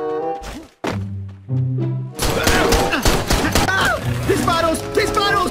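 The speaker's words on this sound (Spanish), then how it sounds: "¡Disparos! ¡Disparos!" Rapid bursts of Free Fire gunfire crackle amid shouting voices and tonal music, dense and loud through the second half.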